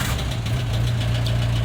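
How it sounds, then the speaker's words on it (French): A diesel engine, just started after glow plug preheating on a weak battery, idles with a steady, close, loud low rumble and rhythmic knock, with no talking. "Le véhicule démarre normalement"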